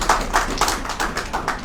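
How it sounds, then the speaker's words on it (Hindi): Congregation clapping at a Friday church prayer service, about six loose, fairly regular bursts of hand claps across under two seconds, moderately close with no talk. "चलिए give a big hand, come on,"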